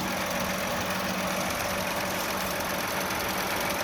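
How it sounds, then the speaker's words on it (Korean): A Lincoln Nautilus 2.7 AWD SUV engine idles nearby, a smooth continuous hum with a faint rattling texture and no voices. "자 바로 엔진음 들려드릴게요"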